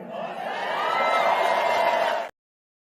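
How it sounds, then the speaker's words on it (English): Rally crowd cheering and shouting, a broad swelling roar that builds and holds for about two seconds before cutting off abruptly, loud and close with no distinct speech. "They're cheering her losing."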